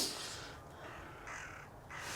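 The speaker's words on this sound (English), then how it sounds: "Well, that's crows." Crows caw in a frozen wildlife-area landscape in a game, a few hoarse calls overlapping against a soft airy background, moderately distant.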